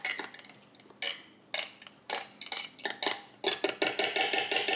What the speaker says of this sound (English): So just grab a spoon and mash it down on the sides.